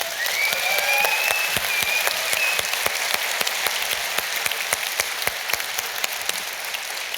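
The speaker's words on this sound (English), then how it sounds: "So, round of applause for everybody watching at home." Audience applause fills the hall at the EVE Fanfest 2017 opening ceremony, a dense, steady wash of clapping from a large crowd that starts strong and gradually thins toward the end.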